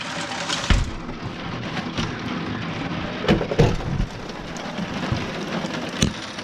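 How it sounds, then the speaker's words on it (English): Steady, dense rain pours down outside a hotel room at about midnight, a constant wash of hiss with a few louder spatters and knocks rising above it. "And that is the sound and the look of the rain."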